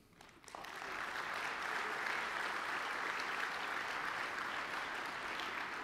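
A conference audience at an opening ceremony breaks into applause that swells within the first second and holds as steady, full clapping from a sizable crowd.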